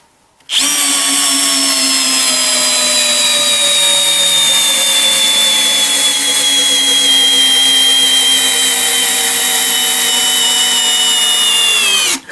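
An Einhell cordless drill driver runs at first speed while driving a small screw, a loud whining motor hum that starts abruptly, holds steady with slightly falling pitch for about twelve seconds, then stops.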